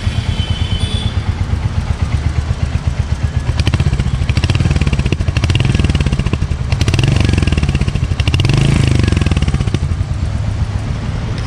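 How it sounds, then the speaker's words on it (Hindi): A Royal Enfield Hunter 350 motorcycle engine running close by, a steady loud thumping idle with rhythmic pulses and a few mild swells in revs, heard alone without talk. "तो चलो एक बार गाड़ी का जो साउंड सुन लेते हैं।"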